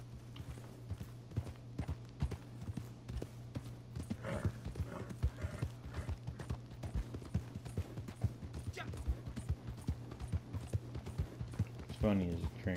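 A horse in Red Dead Redemption 2 runs at a quick, rhythmic clip-clop, hooves thudding steadily throughout over a low constant hum, with a brief whinny near the end and a voice talking over it.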